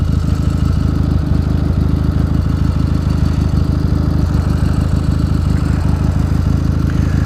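A motorcycle engine drones steadily while riding, a loud close mechanical rumble with faint rhythmic clatter and no talk over it.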